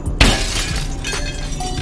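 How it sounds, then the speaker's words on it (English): Car window glass shatters with one sharp crash when hit with a sturdy bar, then a dense, bright spray of falling fragments rings out in a loud, noisy stretch. "you can get out of there smashing the window with these bars"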